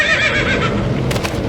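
A horse whinnies loudly and close, a long shaking neigh followed by a few hoof clops near the end, used as an audiobook sound effect in a dark fantasy battle scene.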